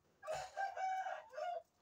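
An Indian game rooster (Hint horozu) under training crows once, close and clear, a short broken call in three segments over quiet surroundings.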